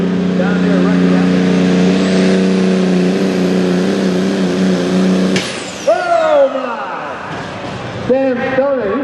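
A farm tractor at a truck and tractor pull in Meadville, Pennsylvania runs loud and steady under load with a droning harmonic roar, then the sound cuts abruptly and tapers off, leaving scattered crowd noise and distant voices.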